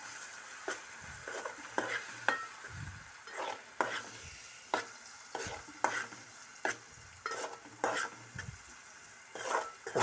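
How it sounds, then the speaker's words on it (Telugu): Ginger garlic paste fries in a pan, with a soft steady sizzle under repeated scraping and clinking strokes of a spoon stirring the pan, close and fairly quiet. "అల్లం వెల్లుల్లి వేగుతుంది, అల్లం వెల్లుల్లి పేస్ట్ కూడా"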